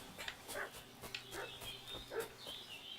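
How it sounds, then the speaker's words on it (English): A dog in Kingdom Come Deliverance 2 barks repeatedly at a moderate distance, the sharp yips and barks coming in an uneven rhythm over quiet ambient game sound. "What's that dog making such a fuss about?"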